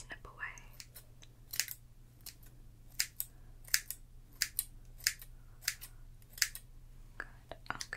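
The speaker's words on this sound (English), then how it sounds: "And I'm going to snip away." Scissors snip real hair during a soft, quiet haircut, a steady series of crisp, close, delicate cuts with brief pauses between them and a faint background hum.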